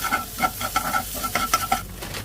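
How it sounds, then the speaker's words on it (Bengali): Metal spatula scraping and tapping rhythmically as eggs stir-fry in oil in a wok, over a soft sizzle of frying, close and steady, no voices. "আর ডিম সাথে সাথেই নাড়তে হবে যেন ঝুড়ি ঝুড়ি হয়ে যায়"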